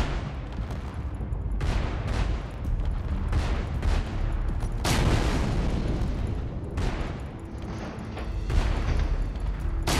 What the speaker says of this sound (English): I'm gonna shoot it just to be safe